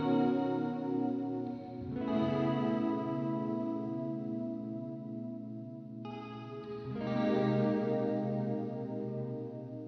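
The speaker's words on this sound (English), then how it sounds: "Now add that reverb back in, since that is what this is supposed to be, modulated reverb." A sustained guitar chord through a Haunted Labs Dark Aura modulated reverb pedal, washed in shimmering, warbling reverb, swelling and decaying, then struck again with another long, modulated wash.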